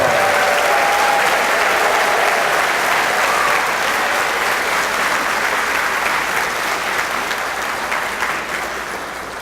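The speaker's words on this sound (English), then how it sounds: "please give every one of these wonderful students a round of applause" An audience applauds students at a Rotary Club student of the year ceremony, sustained loud clapping from a crowd that slowly tapers toward the end.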